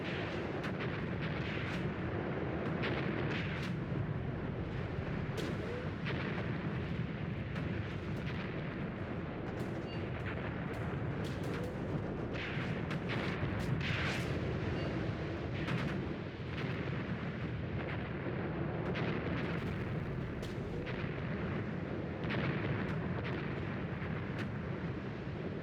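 Mortar fire in the WWII strategy game Tank Warfare: Tunisia 1943, a dense, continuous barrage of booms and crumps with repeated sharp blasts over a rumbling battle backdrop.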